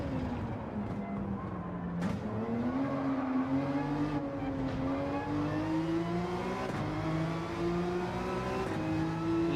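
Race car engine in Gran Turismo 7 during a Christmas endurance race at Yas Marina, a sustained droning engine tone that dips, then climbs and holds steady, close and continuous with no talk.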